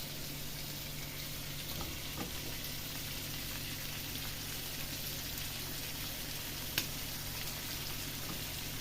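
Peas frying in a pan, a steady even sizzle and crackle like light rain throughout, close and continuous, with one brief sharp tick near the end.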